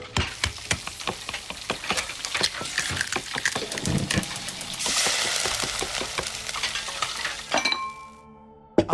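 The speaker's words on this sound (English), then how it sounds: "Now to cook." Cooking in the video game Resident Evil Village: rapid clinks, stirring clatter and sizzling in a quick rhythmic sequence, close and fairly loud, ending with a short resonant chime, no talk.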